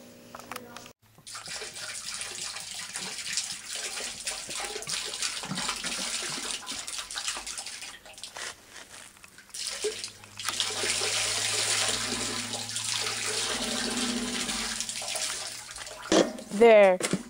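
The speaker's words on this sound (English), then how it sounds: "slowly pour it down the sewer with excess water" Water runs and splashes down a drain as liquid from a Febreze can is slowly poured in with plenty of excess water, a steady faucet-like flow with some talking over it.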